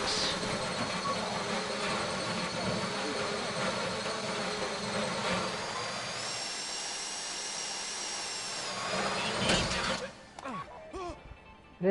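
A drill grinds into a safe during a Fleeca bank heist in GTA 5 Online, a loud, steady whining drone that holds for about ten seconds before cutting off into scattered quieter noises.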